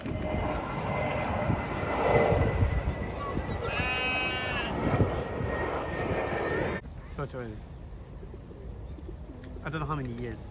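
An airplane passes overhead at an urban farm, a steady broad engine roar beneath people talking, with bird calls and animal sounds mixed in before the noise drops away partway through.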